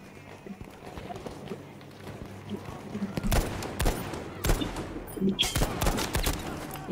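Carbine gunfire in the Battlefield V multiplayer shooter: a few loud, sharp bursts, from about three seconds in, fire over steady game ambience, with scattered shots and a clattering, busy battlefield mix throughout.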